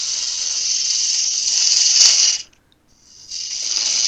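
A wood lathe spins a red magnolia blank mounted on a 10mm bar while a tool roughs it into shape, a loud steady hiss of cutting that stops briefly and then resumes.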